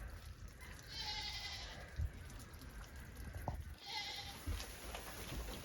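Young goats bleat twice in a frozen Texas yard during an ice storm, each call drawn out and moderately near, with soft dripping and rustling from ice-laden trees in between.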